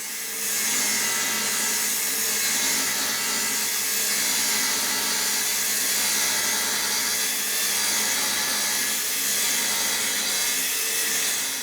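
An angle grinder cuts a long straight line through metal, a steady loud abrasive whine and rasp lasting throughout without a break, close and alone.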